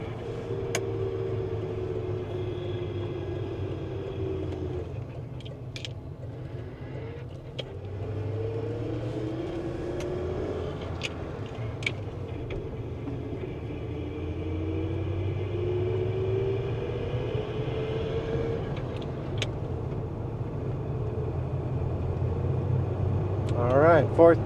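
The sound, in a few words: 1989 Ford F-150 5.0L V8 truck driving in fourth gear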